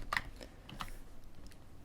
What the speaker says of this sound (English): I'm kind of struggling with my keyboard